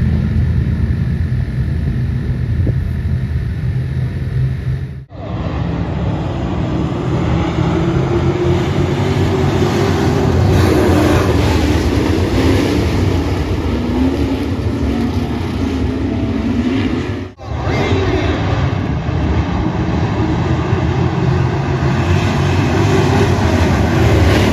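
A loud, steady train rumble with rattling wagons close by on a rainy day, sustained throughout with a couple of brief dips.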